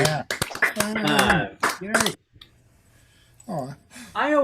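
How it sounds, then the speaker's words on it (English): Scattered hand clapping from several participants on a video call, bursts of claps mixed with overlapping cheerful voices, then a brief lull before more voices. "please, one more round of applause for both Lori Hanson Clark and the lovely Sarah Lopez on piano"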